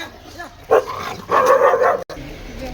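A dog barks and yips a few times nearby while being fed laddoos, short sharp calls with brief gaps between them.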